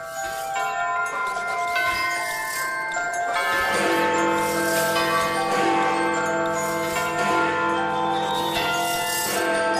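Christmas chime bells from a toy shop carillon in a Scooby-Doo cartoon, ringing bright overlapping tones in a steady melodic sequence that swells and sustains with a lingering shimmer.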